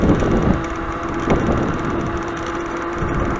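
Steady, rushing wind buffets the microphone throughout, a low continuous roar with no speech.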